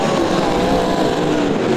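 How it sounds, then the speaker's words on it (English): Sprint cars racing at Borderline Speedway, South Australia: a loud, continuous engine roar from several cars at full throttle, steady and dense throughout with no talking over it. "Great sprint car race here at the Borderline Speedway tonight."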